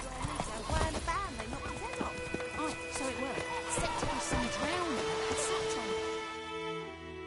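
Roach, Geralt's horse in The Witcher video game, gallops in a steady clip-clop of hoofbeats through a busy game soundscape, with voices and other in-game sounds layered over the rhythm.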